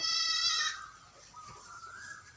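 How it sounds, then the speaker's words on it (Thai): A pregnant goat about to give birth lets out a single strained, wavering bleat up close, followed by quieter, lower grunting sounds. "ชื่อแม่ไข่นะเริ่มคางเริ่มร้องแล้ว"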